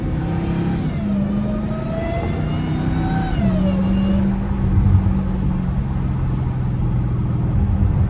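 An 800hp catless supercharged Hellcat Redeye, with its exhaust pipes loose, revs hard with a loud, close engine roar and a rising and falling supercharger whine that swells and dips over several seconds, with no talking.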